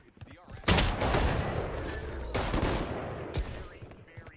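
Loud, close bursts of gunfire and heavy impacts from the tactical shooter Valorant, with sustained volleys and a few sharp single cracks, heard over an esports watch party.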